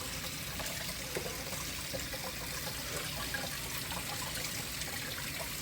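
Cold tap water runs over cooked pasta in a colander, a steady broadband splashing rush that holds evenly throughout with no talking.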